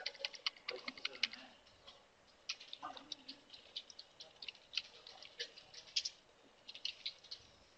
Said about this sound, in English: Now here you need to type the IP address for your Zabbix server.